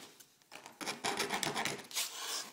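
A hand file rasps along the edge of a metal rudder rib part in short, uneven back-and-forth strokes, close and clear, with no talking.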